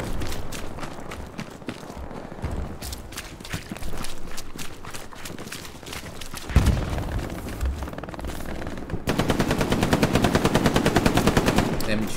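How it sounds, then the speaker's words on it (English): MG 34 machine gun fire in a World War II-style video game rattles in rapid, repeated bursts, with distant gunfire and blasts mixed in, building to a loud sustained stream near the end. "MG 34"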